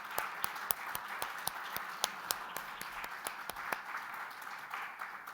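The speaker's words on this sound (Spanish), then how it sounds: "Damos un fuerte aplauso" Scattered applause from a modest audience, individual claps distinct and fairly steady, heard from a slight distance.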